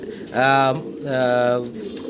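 Two drawn-out coos from blue barless racing pigeons, close and clear, one after another with a short pause between.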